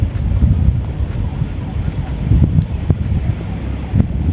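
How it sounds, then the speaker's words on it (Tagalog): Strong wind roars and buffets the microphone in a steady low rumble while fishing, with gusts swelling and easing throughout. "malakas yung hangin"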